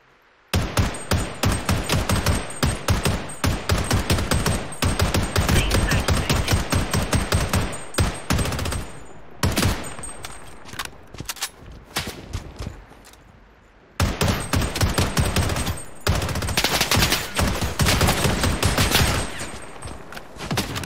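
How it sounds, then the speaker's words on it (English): Sniper rifles and automatic gunfire in the shooter Project: BloodStrike, loud rapid bursts of shots in long sustained volleys with short pauses between them. "Two different freaking snipers shooting at me"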